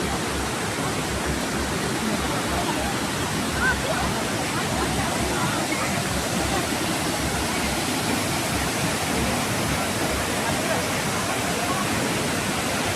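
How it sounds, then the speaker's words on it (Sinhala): A waterfall pours steadily down the falls, its water rushing into the stream below, producing a loud, continuous broadband roar that stays even and unbroken throughout. "මෙතනින් මෙහෙ ගලාගෙන ඇවිල්ලා ඊපස්සේ මෙතනින් මල්ලිහාට යනවා."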